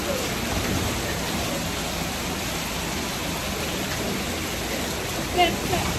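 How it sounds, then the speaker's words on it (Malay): Rain falling steadily outdoors as a broad, even hiss that fills the whole clip with no pauses, close and moderately loud, with one brief louder bump near the end. "Hujan lah guys."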